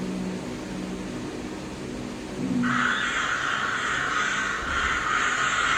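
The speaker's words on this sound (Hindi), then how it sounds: "खेतों में दूर एक तरफ खूब सारे कौवे उड़ रहे थे" Crows caw over fields in a steady, continuous hubbub of calls from a distant flock, with a broad noisy wash that thickens partway through.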